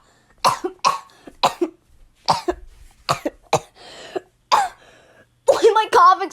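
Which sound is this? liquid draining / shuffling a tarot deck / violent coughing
violent coughing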